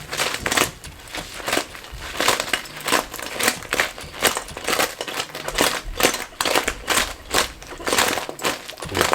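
Hot, crispy chicken wings tossed in Asian zing sauce give a continuous wet, crunchy rustling with quick repeated scraping bursts, close and fairly loud, with no talking.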